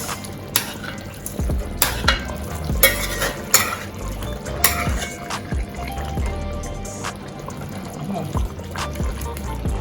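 A spoon stirs a simmering pot of Jamaican chicken, steady wet scraping and sloshing with sharp clinks against the pot, sizzling and bubbling underneath, close and fairly loud.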